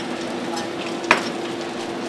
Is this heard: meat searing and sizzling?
yes